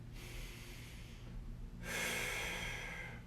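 A deep breath is drawn in through the nose during a hip mobility exercise: a soft airy inhale, then a louder, fuller rush of breath near the end, heard close with no speech.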